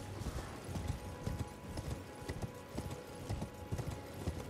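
A horse's hooves clip-clop in steady rhythm while riding across open ground in the video game Elden Ring, soft and continuous throughout.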